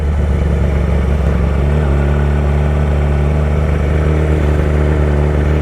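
Yamaha R6 sport bike rolling slowly through the Road Atlanta pit lane, a steady close engine drone with a low idle hum that holds level throughout, no talk.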